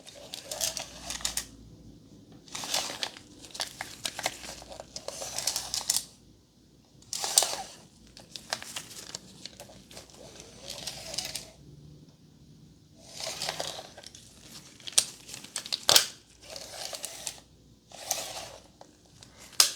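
Clicking, rattling handling noises in short bursts from several different tape measures being pulled out and snapped back, close and intermittent with pauses.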